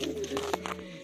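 A female racing pigeon nesting with eggs gives a brief, soft coo, close by and fairly quiet against a light background murmur.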